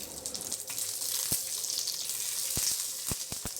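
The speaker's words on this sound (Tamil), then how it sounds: "சட்டி அடுப்பில் வச்சு எண்ணெய் ஊற்றி காயட்டுன்னு வரமிளகா போடலாம். இப்போ மிளகு, இப்போ கருவேப்பிலை" Dried red chillies, pepper and curry leaves sizzling in hot oil in a pan for a small tomato kuzhambu, a steady soft hiss with a few sharp crackles and pops near the end.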